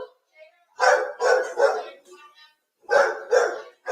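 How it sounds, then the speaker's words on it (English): A dog barks in a rapid run of sharp yaps, pauses, then barks again twice, loud and close over a phone line with little else audible. "We can't hear you over the dog."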